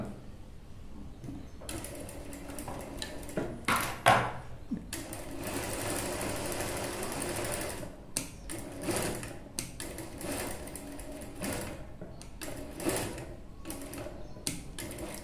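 A sewing machine stitching a boat neck dress runs in close, steady mechanical bursts, with one long run in the middle and shorter starts and stops around it.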